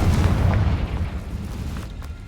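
A Confringo blasting curse bursts in the video game Hogwarts Legacy with a heavy, low explosive boom that starts loud and slowly dies away over about two seconds, with faint crackling debris toward the end.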